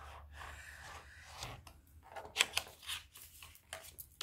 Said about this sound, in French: on vient couper. Alors, avec un cutter qui coupe bien, de préférence.